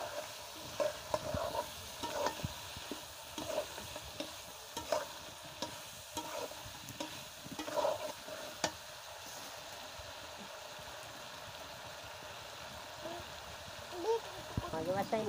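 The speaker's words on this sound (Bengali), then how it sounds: "এতে মরিচ জিরা রসুন আদা দিয়ে এখন কিছুক্ষণ কষিয়ে নেবে" Chili, cumin, garlic and ginger paste is stirred and fried in a pan for a country chicken curry, with faint sizzling and intermittent scraping of a spoon, quiet and close throughout.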